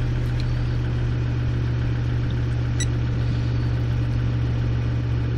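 Land Rover Discovery 2 engine running steadily with a strong, constant low hum and an even tone throughout, close up and fairly loud, showing no clear rise in revs.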